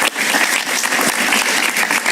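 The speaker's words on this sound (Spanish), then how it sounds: "Un gran aplauso para María Herrera Mellado." Loud, close studio audience applause on a television talk show, a dense uninterrupted burst of many hands clapping for a guest.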